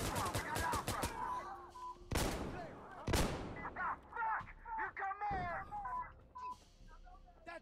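Mortar fire in Insurgency: Sandstorm: several sharp, loud blasts land a second apart amid scattered gunfire, with voices talking between the impacts.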